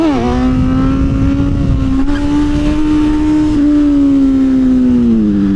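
A motorized Stingray-style bike engine revs loud and close while the rider pulls a wheelie, holding a steady high buzzing drone that sags slightly at the end.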